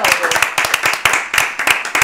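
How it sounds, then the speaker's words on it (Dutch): A small group claps briefly and warmly at an Alzheimer café gathering in Venray, with close, dense hand claps carrying on steadily for a couple of seconds. "Nou, even klappen."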